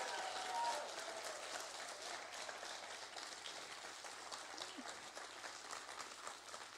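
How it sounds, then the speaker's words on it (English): An audience at a TEDx Youth event applauds its speakers at the close, a quiet, distant, continuous wash of clapping that holds evenly throughout with no voices over it. "Could we please get another round of applause for our amazing speakers?"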